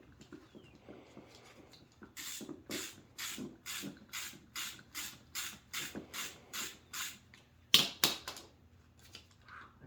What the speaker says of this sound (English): So you take off the two 8mm bolts on the motor side.